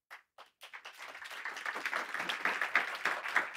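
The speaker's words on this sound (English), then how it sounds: "So a round of applause for Mark." Audience applause for a speaker at a conference on AI and climate, starting as a few scattered claps and swelling into a full, steady round of clapping from a room of people, moderately loud.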